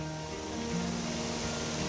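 Waterfall at Graveyard Fields, a steady faint broadband rush of falling water heard alone.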